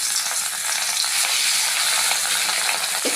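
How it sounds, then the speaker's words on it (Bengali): Pieces of katla fish fry in hot oil, giving a loud, steady, dense sizzle that crackles without a break and with no voices. "একটু লাল করে মাছগুলো ভেজে নেব।"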